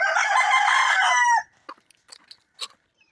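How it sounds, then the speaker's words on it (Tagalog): A loud, close rooster crow is followed by scattered soft clucks and short chirps from nearby birds. "Ito yung mga manok ko oh."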